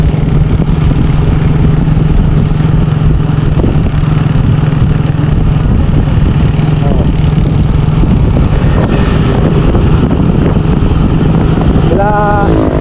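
A motorcycle on a road in Don Victoriano, Mindanao, carries a loud, constant engine drone buried in heavy wind buffeting, with a voice briefly speaking over it.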